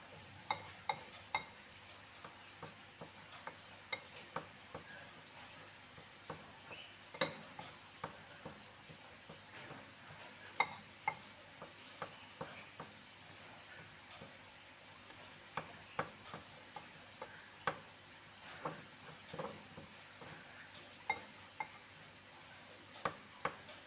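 A spoon scrapes and clinks against a bowl while brownie batter is stirred after baking powder is added, giving soft repeated knocks and scrapes at an uneven rhythm, close and quiet with no talking.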